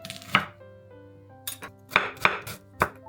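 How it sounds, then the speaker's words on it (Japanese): A knife slices halved myoga thinly on a cutting board, giving five or six sharp, distinct chops spaced unevenly against a faint steady background hum, with no talking. "半分に切ってから薄切りにします。"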